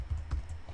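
Quick bursts of typing on a computer keyboard, several soft clustered keystrokes over a low room hum, close and fairly quiet, no voices.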